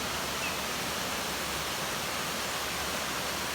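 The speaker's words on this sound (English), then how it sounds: "We are finally here at the waterfall." A close-range waterfall roars as a steady, dense broadband rush of falling water, continuous and fairly loud with no breaks, no voices over it.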